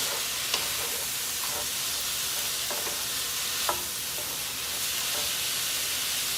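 Bell peppers sizzling and frying in a pan for a light curry chicken dish, a steady bright hiss throughout with a few faint clicks of stirring, no talking.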